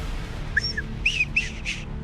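Shrill homemade survival whistle blown in a few short bursts, sharp, high-pitched and tweet-like, close by with no talk.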